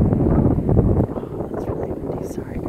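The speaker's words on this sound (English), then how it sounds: "that's really windy" Strong wind buffets an outdoor microphone in a steady low roar through the whole stretch, easing slightly after the first second, with a voice speaking over it.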